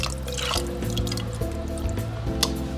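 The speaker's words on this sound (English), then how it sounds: "And we're gonna cover it with water." Water is poured over lentils in a cooking pot for Sindhi dal, giving a steady trickling and dripping splash under a humming musical background.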